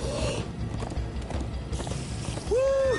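In Minecraft Story Mode, horse hooves clip-clop at a quick gallop through a busy game soundscape, with a rising whinny-like tone near the end.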